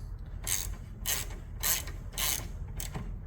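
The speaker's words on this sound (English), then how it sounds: "Run that one in. Nine 9/16 deep socket." A ratchet with a 9/16 deep socket runs a bolt in while a center stand is fitted to a Softail motorcycle: four or five short bursts of quick clicking, close and fairly quiet, with no voices.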